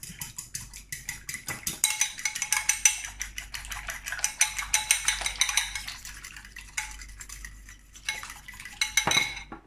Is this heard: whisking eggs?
yes